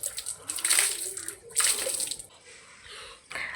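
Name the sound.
water being splashed on the ground outside after sweeping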